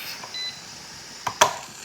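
An electric canner gives a short, thin, high beep, followed by a couple of sharp clicks, all fairly faint against a quiet kitchen background.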